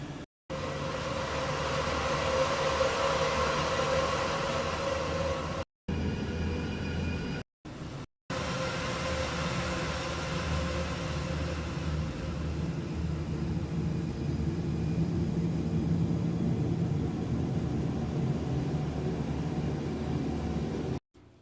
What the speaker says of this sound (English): just the sound of like the harbor in Rotterdam, like the industrial freight harbor